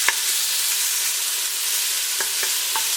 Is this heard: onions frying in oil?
yes